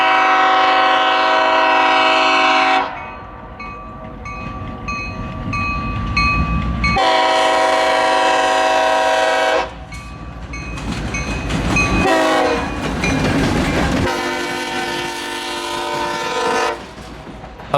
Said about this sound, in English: This is one of the Buckingham branch's scenic trains out of Staunton, operated by the Virginia Scenic Railway as the Allegheny Special to Goshen and back.